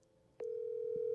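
A phone call rings out with a steady tone: faint room noise, then a loud continuous telephone tone starting abruptly and holding to the end, alone without talk.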